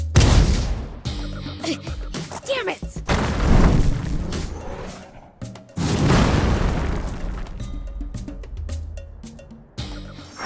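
Several heavy booming tank cannon blasts with crashing debris in the video game Sand Land, loud and close, interrupted by a short shouted exclamation amid game-like battle effects.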